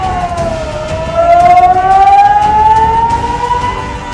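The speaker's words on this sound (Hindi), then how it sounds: "फुटबॉल मैदान पर खतरे का अलर्ट सायरन बजाया गया था" A danger alert siren sounds over a football ground during an attack warning, one loud wailing tone that rises and falls slowly and holds steady throughout, with no voices.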